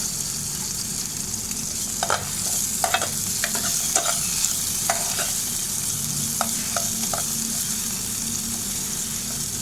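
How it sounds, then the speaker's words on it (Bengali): Nuts fry in ghee for sabudana vermicelli, a constant close sizzle broken by sharp scraping clicks of a spoon stirring against the pan at irregular intervals, with no voices. "ঘি আর বাদামটাকে আমি একসাথে ভেজে নেব।"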